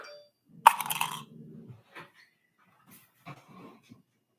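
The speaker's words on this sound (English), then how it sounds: "Hear my dog growling." A pit bull named Xana growls low and rumbling for about a second after a sharp knock, with a few fainter grumbles and small sounds following in an otherwise quiet room.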